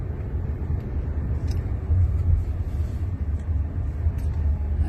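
A driverless electric car rolls along a city road, giving a steady low road rumble and tyre noise heard from inside the cabin, moderately loud, with no talk.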